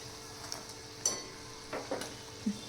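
Fasting bhaji fry in hot oil with a soft, steady sizzle, while a few light clinks and scrapes of mixing come through quietly at close range.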